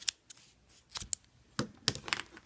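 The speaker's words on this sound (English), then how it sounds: "So this is where you would cut your strand, trim that up" Scissors snip through a yarn strand in a series of sharp, crisp clicks, about half a dozen close-up cuts spaced irregularly over a couple of seconds, with no talking.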